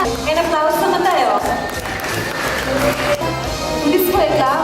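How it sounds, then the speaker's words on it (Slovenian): A studio audience applauds and cheers for a contestant named Mateja on a Slovenian reality show, with loud clapping and crowd noise under music and continuous talk. "en aplavz za Matejo"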